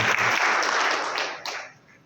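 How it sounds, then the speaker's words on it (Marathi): A crowd applauds steadily at a felicitation ceremony honouring CRPF jawan Dnyaneshwar Sable, a Shaurya Chakra awardee. The dense clapping holds strong, then thins and fades toward the end. "आपण टाळ्या वाजवूया"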